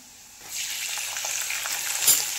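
Mixed sprouted beans hit hot oil with garlic in a pan, rising quickly into a loud, steady sizzle with stirring, close and without speech.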